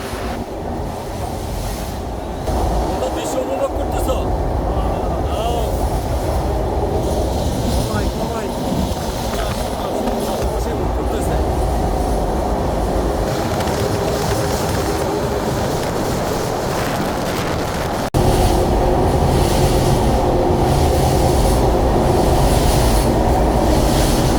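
A train runs along the Padma bridge route in Bangladesh with a steady, loud rumble of wheels and carriages that swells near the end, and people talk faintly inside the coach.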